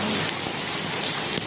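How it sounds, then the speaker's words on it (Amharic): Heavy rain in Dubai pours in a dense, steady hiss of countless drops, loud and close, filling the short moment with no voices. "ዛሬ ኃይለኛ ዝናብ የዘነበ ነው ማለት ነው"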